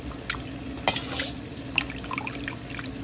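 Water poured into a pot of oxtail stew with potatoes and carrots, a soft splashing and trickling with a couple of brief clinks, fairly quiet and close.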